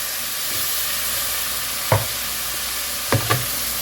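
Tomato sauce poured into a pan of hot browned rice and chicken stock for Mexican rice, giving a steady sizzle and hiss with two or three brief louder bursts of bubbling as the liquid hits.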